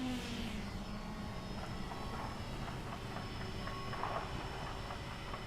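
Small RC drone taking off during a flight test, its propellers producing a steady, fairly loud whirring buzz with tonal harmonics that hold throughout, no voices.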